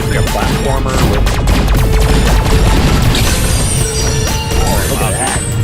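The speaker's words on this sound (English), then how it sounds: "Ooh, that grenade. That's a grenade." Grenade explosion in the VR video game Light Brigade, a loud crashing blast amid dense gunfire and clattering impacts, sustained and chaotic throughout with metallic smashing layered over booming low rumble.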